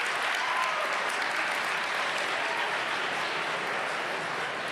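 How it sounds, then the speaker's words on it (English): Students of an incoming college class applaud throughout a lecture hall, a steady, dense wash of many hands clapping at once, sustained and even in loudness with no voice over it. "Go ahead, give yourselves a round of applause."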